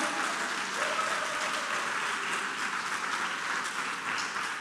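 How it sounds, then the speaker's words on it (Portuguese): A church congregation applauds steadily, a dense, even wash of many hands clapping that holds at moderate loudness throughout. "Pode aplaudir o Senhor bem forte mesmo."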